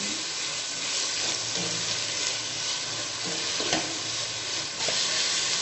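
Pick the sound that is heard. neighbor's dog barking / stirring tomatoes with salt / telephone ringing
stirring tomatoes with salt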